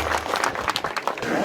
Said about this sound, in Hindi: जोरदार तालियों से स्वागत कीजिए माननीय पुलिस अधीक्षक महोदय